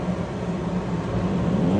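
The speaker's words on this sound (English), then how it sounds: "That's just the blower motor pulling air." The blower motor of a wood planer pulls air while the planer itself is off, making a steady, loud broadband rush with a low hum underneath.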